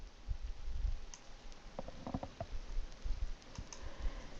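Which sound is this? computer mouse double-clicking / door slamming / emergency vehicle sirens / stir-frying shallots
computer mouse double-clicking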